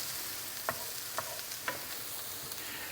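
Garlic sizzles in a pan with onions and peppers: a steady, close frying hiss with a few soft taps and clicks from stirring, and no talk.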